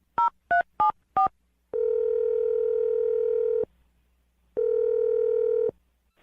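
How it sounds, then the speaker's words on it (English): A telephone dials a number: four quick touch-tone beeps, then two long steady ringback tones separated by a pause, clear and close with no talking. "I'm going to dial his phone number right now."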